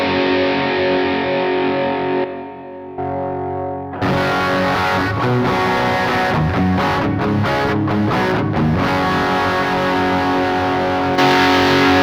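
Heavily distorted electric guitar from a Line 6 HX Stomp fed straight into a full-range flat-response speaker with no amp or speaker block, harsh and fizzy: a sustained chord, a brief dip, then choppy loud strummed bursts with short gaps.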